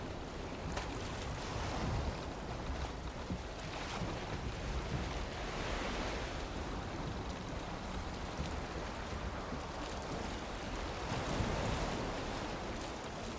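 Ocean waves wash steadily around a boat in Valheim, with wind rushing through a broad, unbroken surf roar that stays loud for the whole stretch.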